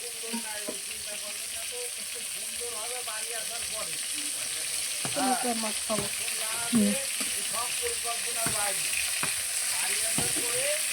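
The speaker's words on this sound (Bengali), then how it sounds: "মাছটা ভাজা হয়ে যাচ্ছে" Bhola fish fries in a pan, giving a steady, moderate sizzle close by, while people talk intermittently over it.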